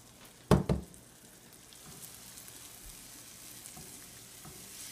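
Ingredients drop into hot ghee darkened with cinnamon and cloves, giving a sharp burst of sizzle followed by a quiet, sustained crackle of frying.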